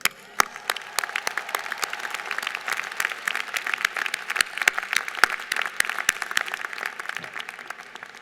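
Audience applause at The New School's 2017 commencement ceremony, a steady wash of many hands clapping with sharp individual claps standing out, sustained and fairly loud for the whole stretch.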